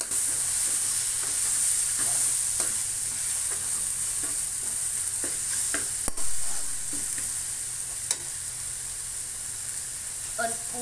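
Pork stir-fried in a pan for a bamboo-shoot pot dish gives a steady, close sizzle punctuated by repeated spatula taps and scrapes, with a brief louder clatter midway.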